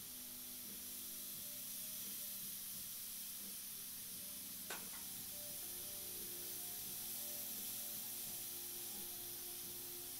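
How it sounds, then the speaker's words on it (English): An airbrush sprays steadily during a memorial portrait painting session, a soft continuous hiss with a low background hum and a brief sharp click midway; no one speaks. "My airbrush is actually spraying pretty nice right now"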